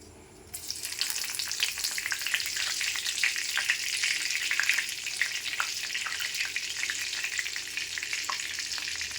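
A bay leaf dropped into hot oil in a chickpea curry pan sets off a sudden loud sizzle that stays bright and crackly throughout, with a few stirring scrapes and no talk.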